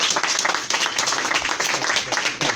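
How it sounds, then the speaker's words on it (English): An audience gives a round of applause for a guest speaker being brought up, brisk, close clapping from a modest crowd, loud and continuous for a couple of seconds. "Can we give him a round of applause?"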